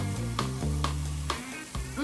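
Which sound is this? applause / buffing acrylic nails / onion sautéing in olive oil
onion sautéing in olive oil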